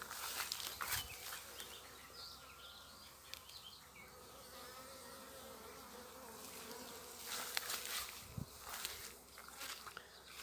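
Honeybees buzz softly and continuously nearby at an apiary while drinking water, a faint steady drone with a few brief rustles and bumps, no talking.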